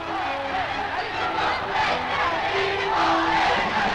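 Agitated crowd in a 1960 newsreel riot scene, a dense, continuous roar of many voices with shouts rising above the mass, steady and loud throughout.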